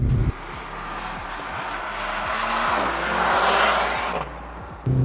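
A Mercedes-AMG C 63 S E-Performance four-cylinder engine droning steadily up close, fairly muted, rising slightly in pitch and volume as it revs, with no voices.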